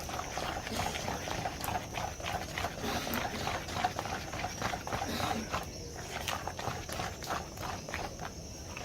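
Small dough fritters for bolinho de chuva sizzle and bubble in hot frying oil, a soft continuous crackle with scattered sharper pops throughout, fairly faint and close.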